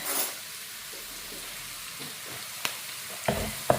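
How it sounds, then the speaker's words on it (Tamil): Quiet sizzling of cluster beans frying in a pan, with soft stirring and a few scraping clinks of a utensil toward the end. "இது வந்து கொத்தரங்காய் பொரியலுக்கு இது வதக்குறேன்"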